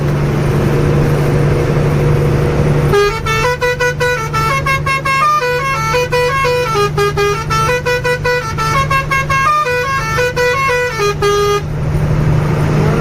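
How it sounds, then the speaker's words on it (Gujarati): A loud, continuous vehicle horn blares in a rapid, rhythmic musical pattern of tones for several seconds over steady engine hum, then cuts off. "હોર્ન તો સારું જ વાગે છે."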